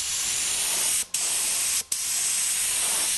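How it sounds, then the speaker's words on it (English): Lacquer sprays in a steady, close hiss onto turned timber on a lathe, with two brief breaks where the nozzle stops before resuming. "So any spray I put on here, there will be a little bit of overspray that I then will pick up on my future passes over the timber."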